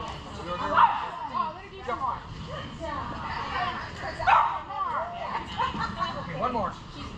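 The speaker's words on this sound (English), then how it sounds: "She's barking for joy." A dog barks in quick, excited bursts during an agility competition run, joined by yips and whimpers, close by, while people talk and cheer over it.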